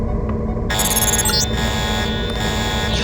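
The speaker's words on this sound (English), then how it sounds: "The alarm just closed the north door." A loud electronic alarm sounds in the video game Deus Ex, a steady repeating buzzer tone that cuts in abruptly and keeps going over background game ambience, with no talking.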